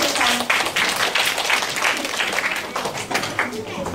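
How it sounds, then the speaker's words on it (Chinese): An audience at a hands-on science demonstration applauding, a dense patter of many hands clapping, with a voice talking over it. "好，再来鼓掌"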